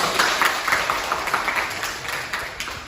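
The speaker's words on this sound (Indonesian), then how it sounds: "Oke, tepuk tangan dulu kita semua." Group applause from participants at an Indonesian teacher-training session, a brief, moderately close burst of hand clapping with an uneven rhythm.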